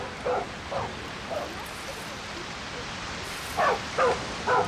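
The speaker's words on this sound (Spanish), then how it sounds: "Está el perro peleándose con los cocodrilos, ¿eh?" A dog barks and yips in scattered short bursts while fighting crocodiles in the video game Far Cry 6, a few calls early, then a tighter cluster near the end, over steady ambient noise.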